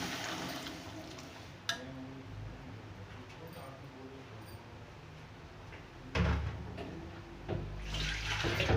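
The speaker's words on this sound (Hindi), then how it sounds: "और अब ये छोले मैं इसमें ट्रांसफ़र कर रही हूँ।" Chickpeas and their water are poured into a pan on a lit gas stove. A steady wet rush is followed by louder splashing bursts near the end.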